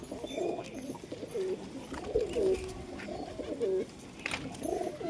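Newly acquired pigeons coo in a home loft, a steady series of low, throaty rolling coos repeating every second or so at close range over a faint background hiss.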